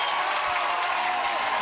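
A college softball crowd on its feet applauding and cheering at a loaded-bases moment, a dense wash of clapping heard at a distance.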